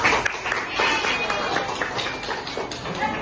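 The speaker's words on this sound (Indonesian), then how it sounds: "berikan tepuk tangan dulu untuk kelompok" A classroom of students applauds a group of classmates, dense overlapping clapping running steadily throughout, fairly loud and close, with a few sharper individual claps standing out.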